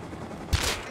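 A single sharp gunshot from the Rust video game, a loud close crack with a short ringing tail after a moment of low background noise.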